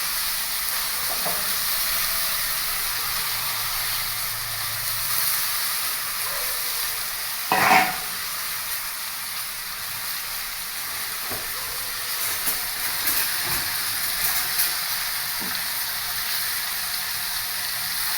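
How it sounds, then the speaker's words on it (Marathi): Washed jackfruit pieces dropped into a hot tempering for a Marathi jackfruit vegetable dish, a steady faint hiss and sizzle with a sharp clatter as they go in and small pops after. "हे गरे जे आहेत हे मी स्वच्छ धुवून घेतलेले आहेत पाण्याने ते मी आता फोडणीवरती घालते"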